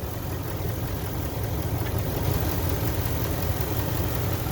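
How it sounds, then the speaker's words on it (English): A 2019 Ford F-250 with a 6.2 V8 idles steadily in a healthy, smooth low rumble with no audible knocks or ticks, close and constant throughout with no talking. "Nice, quiet, no ticks, no, you know, no exhaust leaks, no knocks, just a healthy motor"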